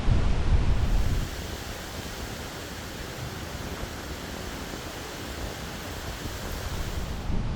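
Strong wind roars and buffets continuously around a camping tarp, loudest at the start, with a dense rushing rumble as gusts hit the flapping tarp.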